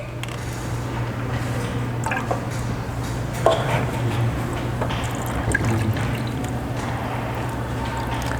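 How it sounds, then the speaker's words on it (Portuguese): Water steadily trickles and splashes as a hang-on-back aquarium filter is filled by hand before being plugged in, a continuous close liquid pouring with small drips over a low mains hum, no talking. "primeiro a gente enche ele de água"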